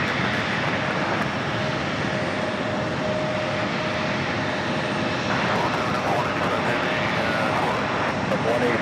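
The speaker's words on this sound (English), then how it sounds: "Delta Connection, Flight 5116. That's a CRJ 900LR." A Delta Connection CRJ 900LR regional jet arriving at JFK from Indianapolis: a continuous, fairly loud jet engine rumble and hiss that stays even across the whole stretch, with a faint whine in it.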